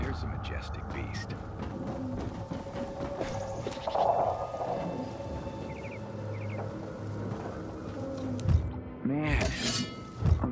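Goats bleat a few times with wavering, nasal cries near the end, over a busy backdrop of sounds from the video game Dying Light 2 and a crash-like clatter.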